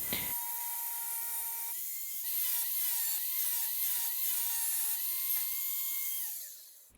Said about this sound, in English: we're going to go ahead and cut this out with my angle grinder